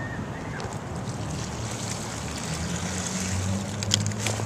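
Water from a Nalgene bottle pours into the bladder sleeve of a backpack and drains out through its sides, giving a steady close splashing rush that grows slightly louder toward the end.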